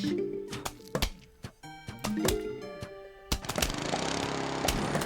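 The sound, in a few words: lawnmower clearing a row of zombies in Plants vs Zombies video game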